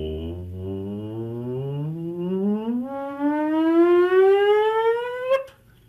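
A single voice slides smoothly in a long siren-like glide, imitating a siren, then cuts off abruptly.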